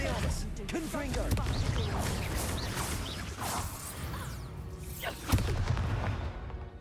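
A Confringo blasting spell from the Hogwarts Legacy video game bursts amid a dense, busy battle mix of whooshes and crashes, with another sharp blast near the end.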